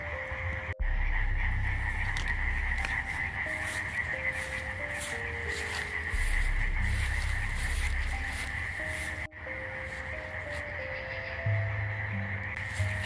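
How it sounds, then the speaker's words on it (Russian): Toads croak in a forest in a dense, continuous chorus with steady insect-like trilling above it, and scattered louder calls stand out through the whole stretch. "Как вы слышите, квакают жабы."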